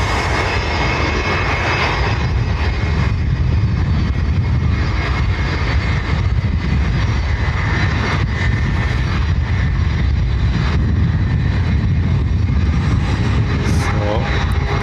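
An Embraer jet at Dublin Airport roars loudly and steadily, its broadband engine rumble filling the whole stretch without letup.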